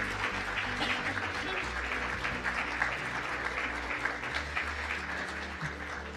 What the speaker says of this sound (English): Let's give a round of applause to the Alpha Delta Nu Honor Society recipients.